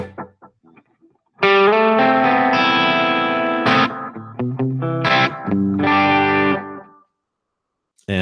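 Electric guitar played through a bucket brigade delay on a Line 6 Helix, with sustained chords and picked notes ringing out. Soft, slightly murky repeats trail each phrase before the sound cuts to silence near the end.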